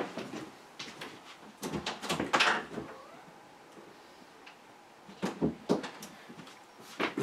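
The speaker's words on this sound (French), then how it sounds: "je vais ouvrir la porte pour mon chat qui souhaite" An indoor door is opened to let a cat out, giving a series of close knocks, clunks and latch rattles in two clusters with quiet pauses between them.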